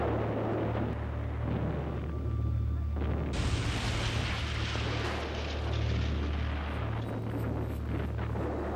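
Cannon fire shelling houses in wartime, heard as a continuous roar of heavy booms and rumbling blasts, loud and dense throughout with a sharper burst partway through, no voices.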